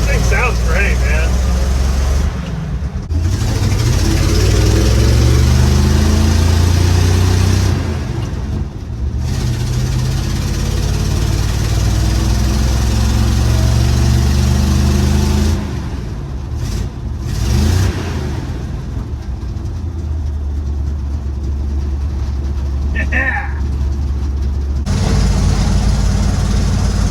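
A 1955 Chevy truck with a 350 engine and Cherry Bomb mufflers, run after sitting for 23 years. It idles with a deep, loud burble and occasional revs, and people talk over parts of it.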